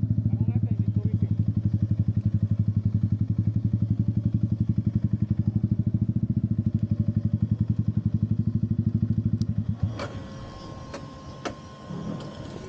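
A motorcycle engine idles with a steady, rapid pulsing throb up close for most of the clip, then cuts out, leaving light clatter.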